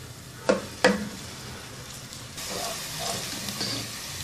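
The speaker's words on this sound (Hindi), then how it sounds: "एक बड़े साइज का प्याज स्लाइसिस में कटा हुआ, इसको हल्का सुनहरा फ्राई करेंगे।" Sliced onion frying in half a cup of oil until light golden, a soft steady sizzle with two sharp clicks near the start, heard alone without talk.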